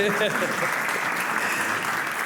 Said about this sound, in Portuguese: Então, primeiro, palmas para você